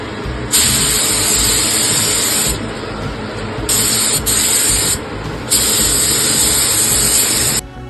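A spray gun hisses in loud bursts as it paints the cargo floor of a 1958 Volkswagen Type 2 splitscreen van, with three long sprays separated by short pauses.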